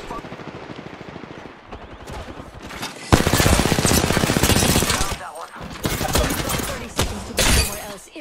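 Gunfire erupts in a hectic Apex Legends firefight, with rapid automatic bursts and sharp cracking impacts, quieter at first and then louder and denser, over shifting game sounds.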